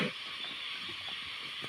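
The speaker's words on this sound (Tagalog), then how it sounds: "Malakas yung ingay ng mga kulisap." Insects in a forest make a loud, steady, hissing drone that fills the air like a distant train, with faint scattered rustles underneath.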